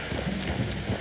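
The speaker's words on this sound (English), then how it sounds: "You were right about the damn rain." Steady rain pouring down in the Red Dead Redemption 2 video game, a dense continuous hiss with soft low rumbling underneath, filling the short stretch with no voices.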